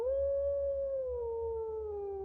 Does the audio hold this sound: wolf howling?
yes